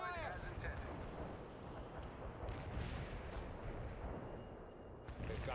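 Incoming artillery fire in the Cold War strategy game World in Conflict: a steady, dense roar of shelling and explosions fills the whole clip, with distant booms layered under game voice radio chatter.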